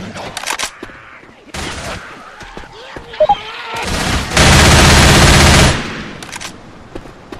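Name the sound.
gunfire in the video game Left 4 Dead 2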